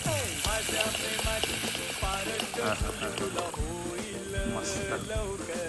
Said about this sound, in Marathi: आता चांगला मस्त उकळ यायला लागला